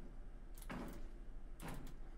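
A door opens in the Outlast Whistleblower video game, heard as two quiet scraping, sliding bursts about a second apart over a low background hum.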